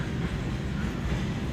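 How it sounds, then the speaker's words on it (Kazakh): A train rolls into a snowy station at Sayotes in Mangystau, a dense continuous low rumble and rattle of wheels and wagons, loud and close. "Яқты пойыз кіріп келе жатыр міне."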